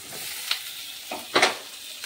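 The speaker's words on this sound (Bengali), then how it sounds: "চিকেনগুলি হালকাভাবে ভেজে নেব।" Chicken pieces sizzle in hot oil in a kadai with browned onions, a close, soft frying hiss broken by a few brief stirring scrapes.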